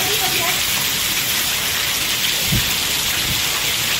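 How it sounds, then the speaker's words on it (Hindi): Heavy rain pours into a flooded home courtyard in a hill-region household, a dense, steady wash of falling water with a couple of brief low thumps partway through. "आज तो बहुत ही ज़्यादा बारिश हो रही है"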